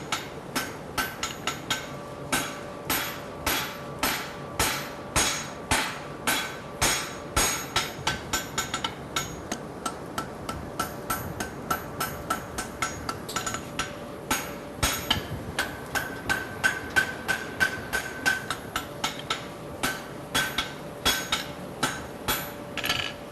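A forged tong head being hammered to an even thickness, with a long run of sharp, close metallic blows in a steady rhythm, some bright ringing strikes and short pauses between groups of hits.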